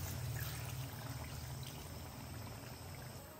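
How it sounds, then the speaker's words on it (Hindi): Water pouring steadily into a pot of aloo chicken masala gravy, a soft continuous rushing stream that eases slightly toward the end. "तो अभी मैं इसके अंदर डाल दूंगा पानी।"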